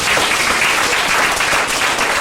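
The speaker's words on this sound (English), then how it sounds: "If you feel me, clap your hands." A church congregation claps their hands in a continuous, loud burst of applause, many hands blending into a dense roar with no gaps across the whole stretch.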